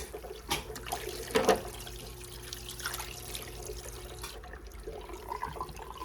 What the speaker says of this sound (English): we're gonna rinse and clean out the sponge